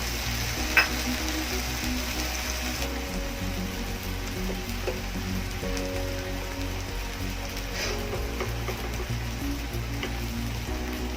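Okra and potatoes sizzle steadily in hot oil as they are stirred with dry spices, a constant crackling fry with occasional scraping stirs, close and with no talking.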